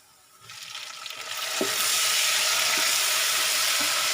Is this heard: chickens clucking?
no